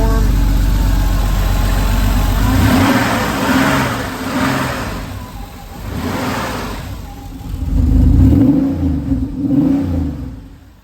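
A 1992 Porsche 964 Carrera RS engine gives a deep, loud burble up close, with a heavy low rumble easing into repeated swelling revs and falling pitch sweeps.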